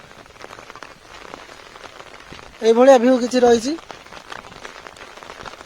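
Heavy rain pours steadily over a village, a dense continuous patter throughout, with a voice speaking briefly over it midway.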